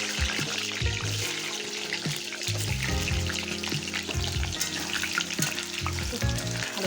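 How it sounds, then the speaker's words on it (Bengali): Chunks of potato for a mutton curry fry in hot mustard oil, a steady close sizzle with scattered clinks and scrapes of a utensil against the pan. "তেল গরম হয়ে গেছে, কেটে রাখা মাংসের আলুগুলো আগে ভেজে নিই।"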